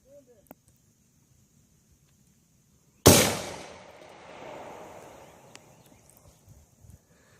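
A single loud .308 rifle round fired in ballistics testing cracks sharply, then rolls off in a long echoing decay across open ground, with only faint clicks before it.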